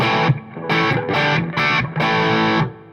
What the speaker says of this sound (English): Now if I want some heavier kind of sounds, I'll put in the Angry Charlie with this.